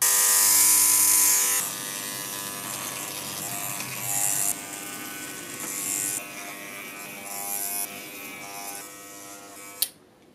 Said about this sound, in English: Bet you thought you'd never see clippers being used to make a synthesizer.